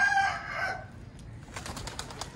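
Hens clucking in a yard, a brief close burst of calls followed by quieter rhythmic pecking-like taps.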